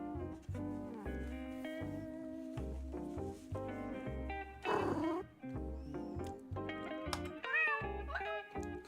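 A cat meows a few times, short rising and falling cries heard over steady background music with a repeating melody.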